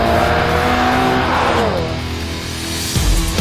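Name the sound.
car cornering on a skid pad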